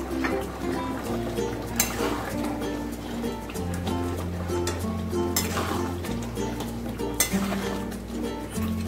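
Homemade garam masala is stirred into ghee in a cooking pot of moong dal with fish head, with light scraping and soft clinks of a spoon against metal over a steady tonal background.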